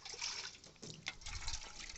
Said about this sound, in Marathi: पाणी देऊन पूर्ण टब भरून घ्यायचा